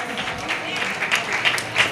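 Audience applause at a Jain honour ceremony in Itarsi, a steady wash of clapping from the crowd heard with a voice speaking over it.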